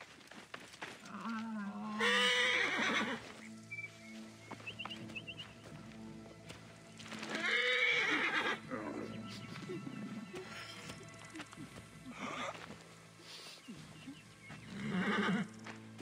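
A horse whinnies several times in Assassin's Creed Origins, over a low ambient backdrop, with soft hoof clops and faint rustling between the calls.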